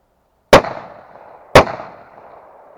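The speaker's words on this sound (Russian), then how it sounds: "Салют!" Two sharp, loud salute bangs go off outdoors about a second apart, each a sudden crack followed by a short rolling echo that fades, during a fishing and hunting outing, with no talking.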